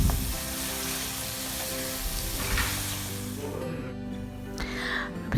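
Chopped onion and chicken fry together in a karahi, giving a steady, close sizzle with stirring scrapes throughout.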